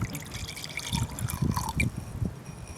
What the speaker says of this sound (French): Vous le versez délicatement